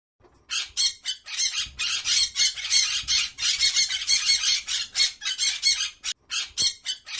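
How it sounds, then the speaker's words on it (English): A parrot squawks loudly and close in a rapid run of harsh, rasping calls with short gaps between bursts, continuing for several seconds. "P for parrot."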